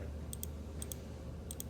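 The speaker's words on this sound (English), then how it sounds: "Why did I pull my score? Because I have to type it." Faint, quick clicks of computer keyboard keys come in three short paired bursts over a low background hum, with no talking.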